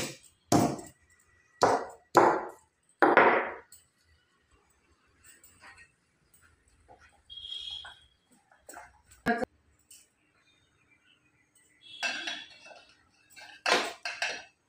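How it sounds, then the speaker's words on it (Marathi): Unpeeled garlic cloves are pounded to crush them in a home kitchen, with several sharp, heavy strikes in quick succession at the start, then quieter clinks and knocks and a few more loud hits near the end. "चार 5 पाकळ्या घेतलेल्या आहेत, ते ठेचते मी"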